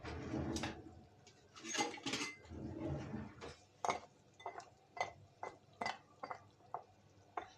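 Spoon stirring Kemal Paşa dessert into boiling syrup in a pot, with soft scraping and a series of light clinks against the pot at irregular intervals, close and quiet, no talking.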